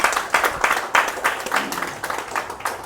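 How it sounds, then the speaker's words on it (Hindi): Audience at a meeting claps in uneven bursts, a modest crowd of hands pattering for a few seconds at moderate volume, swelling and easing in waves. "आप सब लोग अपने लिए, मेरे लिए और इस सिस्टम के लिए ज़ोरदार तालियां बजा सकते हैं।"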